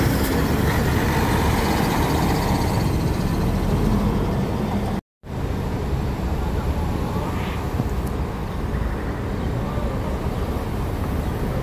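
A bus pulls into the BH bus station on the Corpus Christi holiday, a steady low engine rumble amid station background noise, briefly dropping out midway, with someone talking over it.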